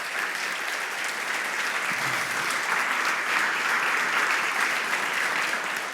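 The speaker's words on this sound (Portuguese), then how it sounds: "Você pode aplaudir Jesus por isso?" A church congregation applauds steadily for several seconds, a dense, even wash of clapping that swells slightly toward the end.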